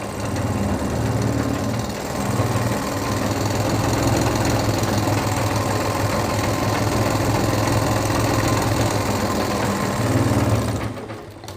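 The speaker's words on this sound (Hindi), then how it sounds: "तो दोस्तों ये देखिए यहाँ पर ये हमने एक और सीधी सिलाई लगा ली है।" A sewing machine stitches a straight seam in cloth with a close, loud, continuous motor whir and rapid needle rhythm. It runs almost without a break and cuts off at the very end.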